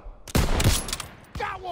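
Gunfire in Call of Duty WWII, a wartime stronghold battle: two loud, sharp bursts of shots about a second apart, each followed by a rattling tail over softer background battle noise.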